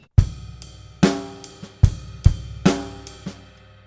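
A rock drum groove plays one bar on a full kit, evenly spaced kick and snare strikes with ringing decay and no buzz roll, heard alone and close.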